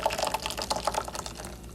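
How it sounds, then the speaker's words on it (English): Second batch of blended gazpacho poured into a bowl holding the first batch, a short liquid splashing and dribbling pour, close and fairly quiet, with no talking. "pour it into the bowl with the first batch you blended"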